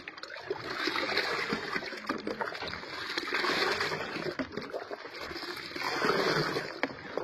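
Salt mixture being stirred into drinking water for backyard chickens, a steady close swishing and splashing of water for several seconds with no talk.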